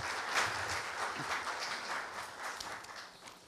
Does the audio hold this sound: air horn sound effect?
no